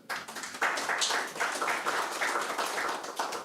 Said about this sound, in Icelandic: Við skulum bara klappa fyrir Jakob